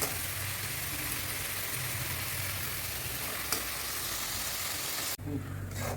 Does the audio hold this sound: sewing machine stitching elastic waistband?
no